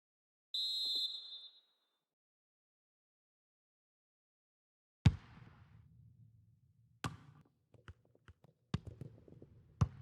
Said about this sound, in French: Et l'arbitre qui siffle.